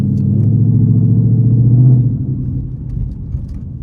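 A 2022 Ford Mustang GT with the 5.0 engine rumbles loudly from inside while cruising on a wet, rainy road, holding a steady deep drone before easing off to a softer rumble after about two seconds.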